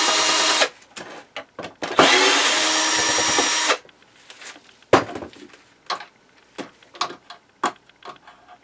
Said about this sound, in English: Now let's just start taking out some screws and see what happens.